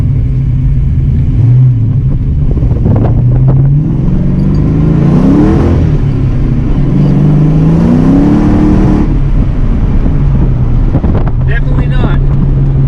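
A 1986 Ford Mustang GT V8 running a nitrous tune revs at wide open throttle. The engine note climbs loud and close in two rising sweeps, then settles back to a steady idle, with wind buffeting throughout.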